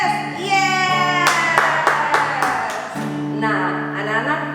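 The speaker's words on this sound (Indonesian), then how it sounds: "1, 2, 3, tepuk semangat" Children at a school gathering do the 'tepuk semangat' clapping cheer, a quick run of sharp rhythmic claps in the middle, framed by voices chanting along before and after.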